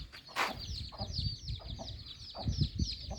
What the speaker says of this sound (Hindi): अम्मी ने मुर्गियाँ और चूज़े उनके निकलवाए हैं